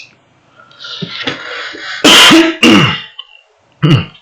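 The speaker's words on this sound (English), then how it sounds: "I keep on coughing" Several harsh, close coughs and throat-clearing sounds, starting with a muffled rumble, then two loud hacks and a final cough after a pause.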